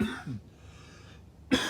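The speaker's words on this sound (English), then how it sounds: "I still got a respiratory infection, so coughing and all that good stuff" A person with a respiratory infection coughs a couple of rough, close bursts, with a short quiet gap before another harsh cough at the end.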